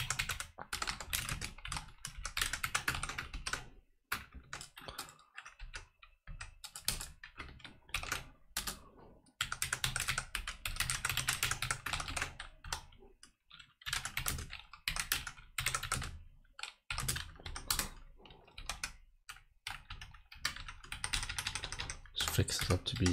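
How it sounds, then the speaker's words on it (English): Code is typed on a computer keyboard in quick, dense bursts of close key clatter, broken by short pauses, continuing for over twenty seconds. "I'm going to very quickly just type out the code here"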